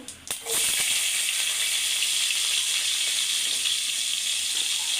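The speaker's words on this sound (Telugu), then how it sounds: "ఇదే ఆయిల్లో కొంచెం జీలకర్ర వేసుకుందాం తర్వాత మనం ముందుగా కట్ చేసుకున్న ఉల్లిపాయలు" Cumin seeds and chopped onions hit hot oil for aloo rice, bursting into a loud, steady hissing sizzle after a brief clatter at the start, holding at full strength throughout.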